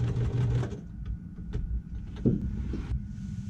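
Sewing machine backstitching at the end of a seam, short bursts of whirring and clunking stitches, close and moderately loud, ending abruptly.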